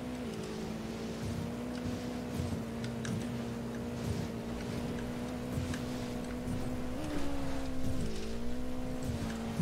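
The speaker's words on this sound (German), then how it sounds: "Ich fahr das Motorrad." Motorcycle ridden in the video game Ghost Recon Wildlands, a steady droning engine hum that holds a constant pitch, dips briefly near the end and picks back up, alone with no talk.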